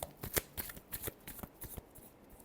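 Tarot cards being shuffled by hand, a quick run of crisp riffling and flicking bursts close up, with no voices.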